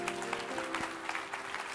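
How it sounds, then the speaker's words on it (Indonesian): A seminar audience claps for a speaker, dense applause heard at a distance and fairly faint for under two seconds. "Sekali lagi beri tepuk tangan buat Pak Adrian."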